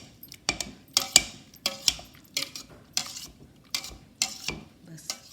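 Cooked vegetables for pav bhaji are mashed in a metal pot, giving a steady run of close, rhythmic clanking and scraping strokes about twice a second, with no talk.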